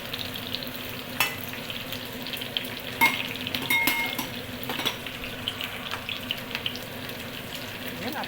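Capsicum and onions fry in a pan, a soft steady sizzle broken by a few sharp clinks and scrapes of stirring, with a voice talking lightly over it.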